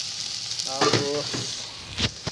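Chicken liver for bopis sizzles steadily in a hot pan while being stirred, with a continuous close frying hiss broken by several scraping strokes of the utensil.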